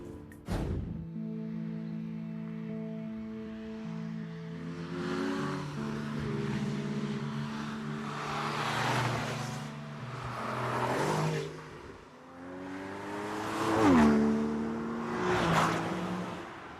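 A Porsche Boxster S and a Nissan 370Z Roadster driving, engines droning and rising in pitch through several swelling passes and revs, with a steady motor hum in between and no talking.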